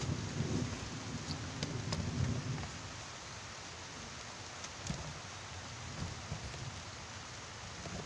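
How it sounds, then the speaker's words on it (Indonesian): Steady rain hisses down in a broad, even wash, with a low rumble of thunder early on and occasional soft drips. "Hujan."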